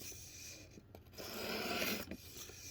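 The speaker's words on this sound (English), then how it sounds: "This is a great knife sharpener, by far the best knife sharpener I've ever had." A Browning pocket knife being sharpened on a knife sharpener: a continuous close-up rasping, rubbing scrape that swells through a fluid stroke, with a brief pause and a couple of faint clicks, no talking.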